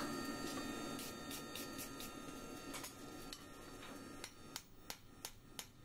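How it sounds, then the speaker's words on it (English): A finishing hammer strikes metal while forging a pritchel, in a series of sharp, ringing taps, sparse at first and then quicker and more regular, close by in a quiet room. "This is my finishing hammer."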